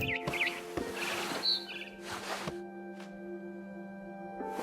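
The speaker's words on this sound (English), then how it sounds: "Then I heard chirping outside my window. Oh. It was a barn swallow going back to her nest." A barn swallow chirps in the video game What Remains of Edith Finch, a few brief high chirps early on over a sustained tonal music drone, faint and fleeting.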